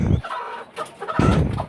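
Chickens on a commercial poultry farm, clucking in short loud bursts at close range in the morning while they eat, with a brief pause between calls.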